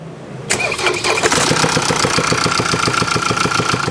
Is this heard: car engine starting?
yes